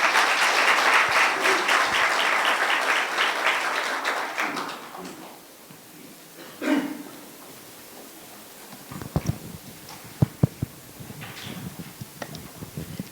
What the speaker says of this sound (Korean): 큰 박수로 모시도록 하겠습니다